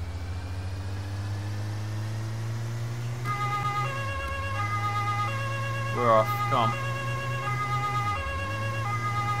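A police siren in the game Autobahn Police Simulator wails, rising and falling over a constant low engine hum, with a voice briefly speaking partway through.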